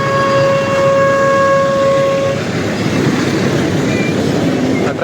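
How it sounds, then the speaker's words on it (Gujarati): At a weekend flower show, a toy train sounds a steady horn tone for about two seconds, then runs on with a loud, continuous rumble amid busy crowd noise. "આ ટ્રેન ચાલુ જ છે, મને લાગ્યું બંધ થઈ ગઈ."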